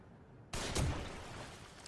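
A sudden burst of gunfire in the video game The Evil Within erupts after a quiet moment, a sharp loud report followed by a lingering rumble and echo.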